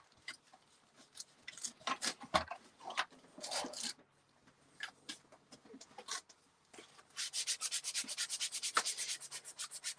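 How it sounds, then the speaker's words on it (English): Close rubbing and scraping of a sanding pad across a surface, irregular strokes at first, then a fast, even run of back-and-forth scrubbing. "And then I'll use my little sanding pad."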